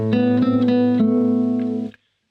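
A classical guitar plays measure 1 of Sagreras Lesson 42: an open A bass note under a short melody climbing and falling back, six clear plucked notes ringing alone, then stopping abruptly.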